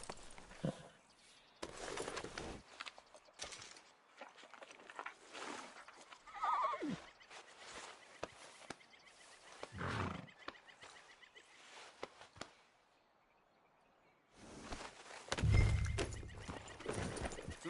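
Horse neighing and whinnying in Red Dead Redemption 2, heard in several bursts across the clip with hoof clip-clop and ambient game sound, a louder whinny near the end after a brief quiet gap.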